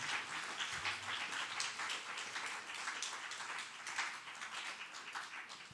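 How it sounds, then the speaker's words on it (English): A church congregation at a community engagement day gives a round of applause, steady dense clapping sustained for several seconds, fairly faint and distant. "If we give them a round of applause, please."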